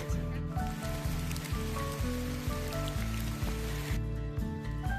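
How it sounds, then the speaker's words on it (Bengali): Dense, constant hiss of heavy rain pouring down on a trek to Mera Peak in Nepal, with a low droning hum running underneath throughout. "প্রচন্ড বৃষ্টি"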